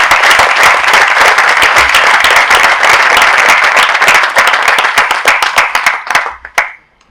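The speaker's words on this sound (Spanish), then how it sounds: "Un aplauso muy fuerte para ella, por favor." Dense applause from a business confederation's anniversary audience fills the hall, loud and sustained for several seconds before thinning to a few scattered claps and dying out.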